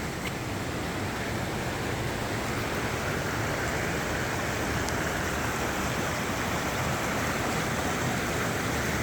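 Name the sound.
waterfall on coastal walk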